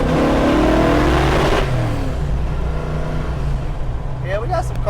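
A 1965 Ford Mustang with a carburetor that needs adjustment, accelerating on the road, its engine droning loudly and revving up close, then easing off.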